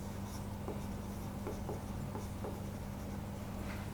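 A pen scratches quietly on paper while someone writes out an interest schedule by hand, with short repeated strokes and taps over a soft, steady background hiss.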